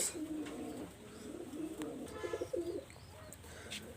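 Pigeons of an imported flying breed coo in soft repeated phrases, close by, amid faint chirps and background murmur.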